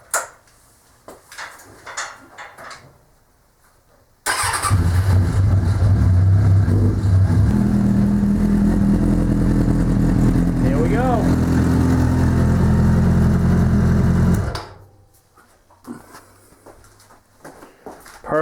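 A motorcycle freshly fitted with a TIG-welded 308L stainless steel exhaust fires up and runs loud and close for about ten seconds, rising in a couple of revs before shutting off, with people talking before and after.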